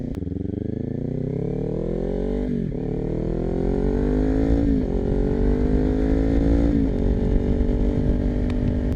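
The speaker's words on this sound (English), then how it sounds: "if you guys have a Ninja 400, you can tell that there's a huge difference in the sound with this slip-on" A Kawasaki Ninja 400 fitted with an aftermarket slip-on exhaust rides up through the gears, its engine note climbing in pitch with each pull and dropping at three quick shifts, loud and close throughout.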